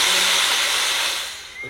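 Steam vents in a loud, steady hiss from the turbine exhaust behind the chimney of a historic steam locomotive, slowly fading toward the end.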